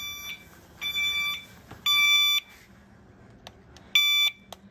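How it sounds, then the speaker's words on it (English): A seatbelt alarm sounds three evenly spaced high beeps, pauses, then beeps again, clear and close with no talking. "which immediately sounds the alarm. Three tones, beep, beep,"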